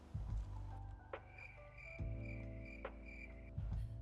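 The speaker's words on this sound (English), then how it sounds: "that's some damn loud cricket" A cricket chirps loudly during a mayoral debate event, sounding repeated steady trills with brief pauses, close and clear with no talking over it.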